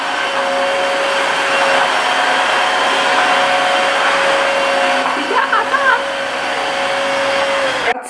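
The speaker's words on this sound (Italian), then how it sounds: "cercavo un aspirapolvere che lavasse anche. Ho trovato questa qua della Dreamy" A Dreame wet-and-dry vacuum cleaner washes a floor indoors, its motor giving a steady, close, loud whirring drone with a thin whine that runs almost unbroken throughout.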